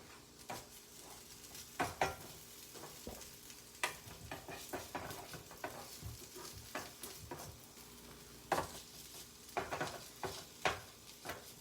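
Hash brown frying in a pan, a quiet steady sizzle under repeated scrapes and taps of a spatula pushing the potato to the pan's edges, no talk.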